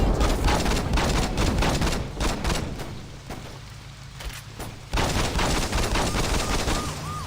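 Gang members in Saints Row 2 fire guns in dense, overlapping volleys, sharp repeated shots crackling loudly throughout with a brief lull before the barrage resumes.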